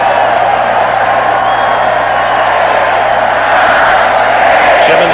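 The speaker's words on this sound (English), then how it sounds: "Goes for 4 or 5 and listen to the crowd" Football stadium crowd roaring steadily after a running play in a 1989 LSU at Texas A&M college game, a loud, dense wall of cheering and whooping that fills the whole stretch without a break.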